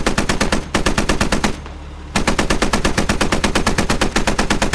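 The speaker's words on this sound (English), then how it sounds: "the Striker's using a lot of ammo here, shooting at nothing" A Stryker vehicle's mounted gun hammers out long, steady automatic bursts in a military game, loud and close, broken by one short pause before the rapid fire resumes.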